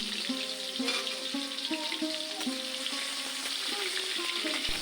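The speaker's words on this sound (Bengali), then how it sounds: "ভালো করে আমার তেলটা গরম হলে এর মধ্যে আমি আমগুলো দিয়ে ভাজা" Mango pieces for pickle fry in hot oil tempered with dried chili and five-spice seeds, a steady close sizzle broken by repeated scraping knocks of a stirring spoon.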